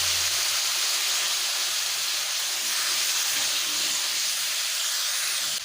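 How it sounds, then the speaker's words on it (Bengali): Green jackfruit pieces frying in oil for a jackfruit and prawn dish, giving a continuous, even hiss of hot oil that stays close and steady throughout, with no talk. "ওই তেলেই এঁচোড়গুলোকেও ভেজে নেব।"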